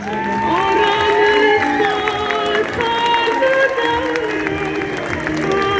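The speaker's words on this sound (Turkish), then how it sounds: "kraliçesine bir alkış alabilir miyiz?" Loud crowd noise at the 2024 Adana Orange Blossom Carnival, with applause, cheering and scattered shouts and voices, continuous throughout.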